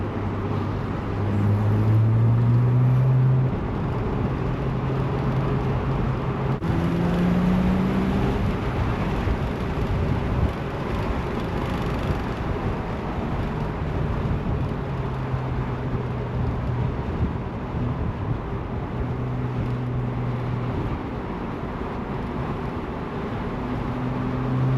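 A car being driven, heard as a steady, dense drone of engine and road noise with low tonal hums that shift slightly, continuous and unbroken throughout, with no talk.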